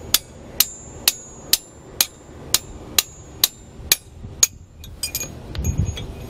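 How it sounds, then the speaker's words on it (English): A hammer taps a punch and a 3/8 extension while a tow bar is installed on a 2020 Jeep Wrangler, about ten sharp metallic strikes in a steady rhythm, close and crisp, followed by a few lighter clinks and handling noise. "We're just using a 3/8 extension and just finish tapping it out."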